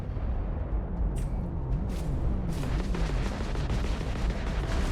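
Enemy ship weapons fire in the space game Starfield, a steady, dense barrage of booming shots and rumbling blasts that continues without a break for the whole stretch, loud and close, with no talking over it.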